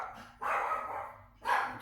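Dogs barking excitedly at someone at the door, two loud bursts of barking separated by a short pause, fairly close and with no talk over them.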